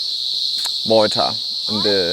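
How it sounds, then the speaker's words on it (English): Loud cicadas among native flower plantings such as waratahs and proteas, a constant piercing high drone throughout while someone talks over it. "wow, these cicadas are so loud."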